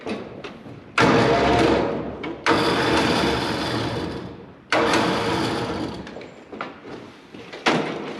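An electric winch drags an old Chevrolet K5 Blazer off a trailer, its motor whining loudly in long straining runs broken by short pauses and clunks.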